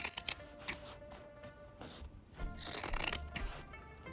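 Scissors trimming fabric beside a sewn line on a handbag, a series of close, crisp snips and rustles with short pauses between cuts.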